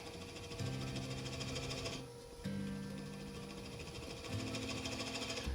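A wood lathe running slowly hums steadily with a faint tonal whine, while a gouge takes the spigot off a spinning top in quiet, close turning work with no talk.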